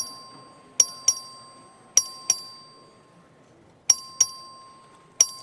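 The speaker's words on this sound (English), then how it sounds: "This is a record vote. The clerk will ring the bell." The clerk rings the voting bell in the Texas House chamber during a record vote: sharp metallic dings, some single and some in quick pairs, spaced irregularly against a quiet room.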